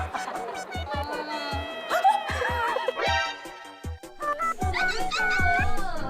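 A small dog yips and whimpers in a run of high, wavering whines and short sharp yelps, close and fairly loud, with brief pauses between cries.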